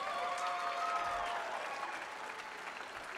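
Audience applause for a guitarist at a Millennium Stage concert, steady and fairly even over about three seconds, with a faint sustained tone running beneath the clapping early on.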